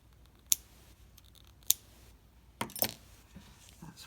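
Scissors trim a loose end of crochet yarn with a few sharp, crisp snips spaced apart. A short cluster of clicking handling noise follows, all quiet and close.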